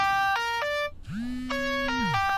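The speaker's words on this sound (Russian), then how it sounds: "В «Пауке» с Эндрю Гарфилдом эта тема звучит в качестве рингтона в одной из сцен." The Spider-Man theme plays as an electronic phone ringtone in a film scene: bright synthetic melody notes in short phrases with a rising sliding tone in between, clear and alone with no talk.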